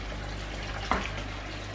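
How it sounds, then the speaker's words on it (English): Water trickles slowly through a filter system into a fish tank, a continuous close, soft rushing hiss with one brief splashy tick midway. "trickle through the filtered system and let it fill up slowly"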